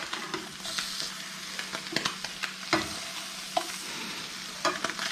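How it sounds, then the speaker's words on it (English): Steady sizzling of Spam slices frying in a pan, with occasional scrapes and taps of a utensil stirring, close and continuous without talk. "just having this sizzle a little bit, seems to be doing pretty well"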